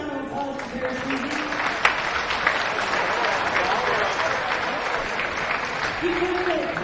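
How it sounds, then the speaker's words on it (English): Crowd applause for a public address announcer at a high school volleyball all-star event: sustained, dense clapping filling the hall, with occasional sharper claps and a faint voice over the noise near the start and end. "Please give a round of applause for Terry Sweezy"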